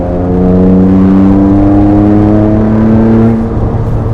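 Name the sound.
Rossion Q1 car accelerating, turbos reaching full boost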